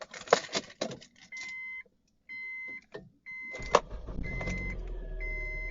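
A Honda Civic or CR-V is switched on: key clicks and rattles, intermittent electronic chimes, then a low engine rumble settling in, close and fairly quiet.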